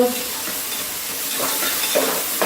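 Raw cowpeas and peas hitting hot oil in a pan, with a soft steady sizzle, faint stirring clatter and a few brief louder scrapes near the end, close and moderately quiet.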